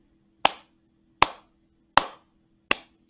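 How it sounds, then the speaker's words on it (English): Four sharp, evenly spaced hand claps in a steady beat, close and clear, each fading quickly over a faint low hum, with no voices between them. "Let's clap it together."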